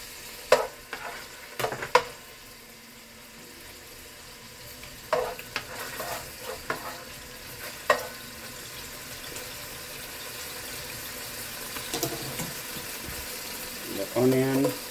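Garlic fries in a pan with a steady sizzle, broken by repeated sharp scraping knocks as it is stirred, and speech is heard briefly near the end.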